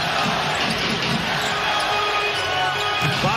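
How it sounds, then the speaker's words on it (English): Dense crowd roar fills a New York basketball arena, steady and loud throughout, with faint squeaks and thuds from the court beneath the noise. "And listen to this crowd."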